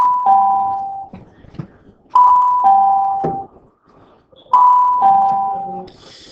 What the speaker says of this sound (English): That's not the bell for you to leave.